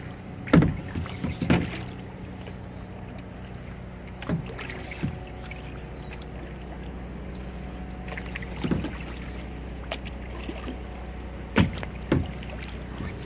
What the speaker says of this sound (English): it's a bit hard to film and kayak at the same time